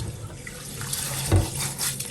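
Tap water runs steadily into a sink while rice is washed, a soft continuous splashing with a brief louder slosh midway.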